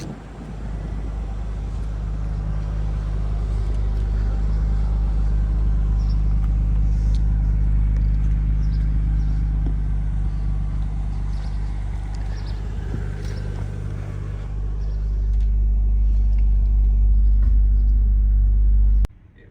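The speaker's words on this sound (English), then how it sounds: "the 33 GTST giveaway car is leaving" A Nissan Skyline R33 GTS-T pulls away, its engine a loud, steady low rumble that holds close for most of the stretch, swells briefly near the end, then cuts off abruptly.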